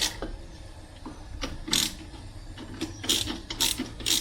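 Cylinder head bolts being threaded by hand tool into a BMC A-Series engine block during head gasket replacement: irregular bursts of ratcheting clicks, close and fairly loud, with short pauses between turns.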